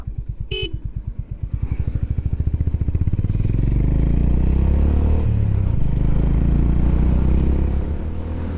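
A Honda Highness CB350 motorcycle pulls away, its single-cylinder thump starting as slow distinct pulses that quicken into a steady, loud drone as it gathers speed, close by with no talk.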